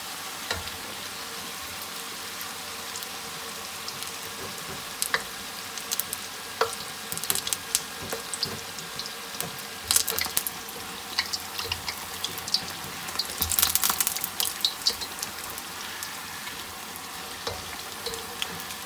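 Papdi fry in oil over a low flame, a continuous fizzing crackle that swells into bursts of louder popping and bubbling, with some clinks and watery splashes, no speech.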